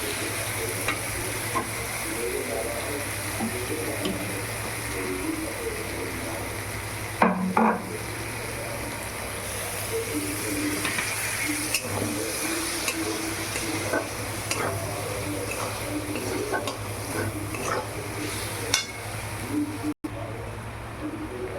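Ground poppy seed and green chili paste added to frying pointed gourd, heard as a steady close sizzle with spatula scraping and stirring throughout, no talking.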